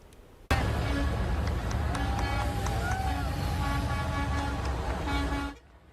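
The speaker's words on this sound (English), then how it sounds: "dozens cheered and honked their horns yesterday as the statue passed by" Several car horns toot repeatedly over the hum of passing traffic on Daytona Beach streets, with a cheering crowd's voices faintly mixed in beneath.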